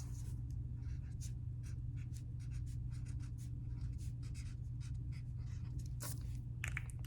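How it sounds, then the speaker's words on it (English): Pen scratching across paper as a word is written during an emotions art project, soft and close, with faint short strokes over a steady low room hum and no talking. "So I'm just gonna write students."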